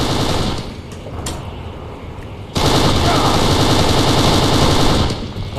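Automatic gunfire in Kane & Lynch 2: Dog Days during a Shanghai firefight, with dense, loud rattling bursts that drop off briefly then return in a long, heavy volley.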